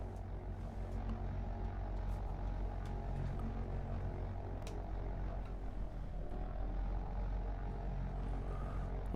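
Propeller aircraft engine in the flight game DCS, a steady, loud, continuous drone with a deep rumble that holds even throughout, with no voices over it.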